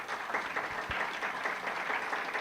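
An audience at a national gathering of agroecology producers claps for a doctor after a talk, a moderate, steady ripple of hands from a mid-sized crowd.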